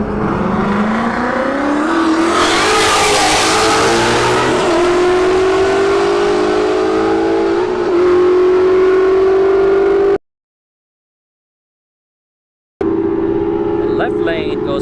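Drag race at a motorsports park between a Roush Stage 3 Mustang and an S197 Mustang, with loud engines climbing in pitch as the cars accelerate hard down the strip. A commentator talks over it, then a sudden silent gap.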